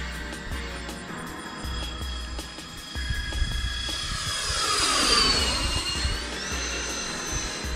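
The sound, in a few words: RC F-14 model jet engine on runway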